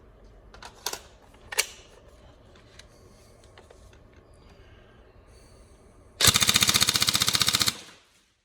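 A black TM 416 Delta NGRS airsoft electric gun fires BBs in a fast full-auto burst of about fifteen rounds per second, a loud, close rattling buzz lasting over a second after a few quiet handling clicks.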